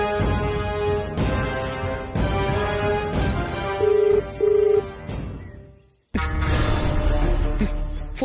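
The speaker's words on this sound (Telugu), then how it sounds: "ఫోన్ లిఫ్ట్ చేయట్లేదు." A telephone call rings out unanswered, a steady repeated ringback pattern of evenly spaced tones that cuts off abruptly near the end before the sound resumes, with no one speaking.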